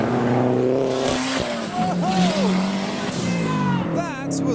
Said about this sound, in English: And now we have the off-roading Seat with the light bar and the snorkel.